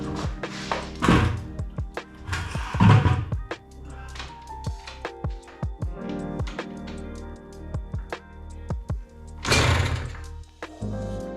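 An old dirt bike being revived is kick-started again and again. The clip holds repeated heavy thunks and kicks with mechanical clatter and short scraping bursts, and the engine never catches into a steady run.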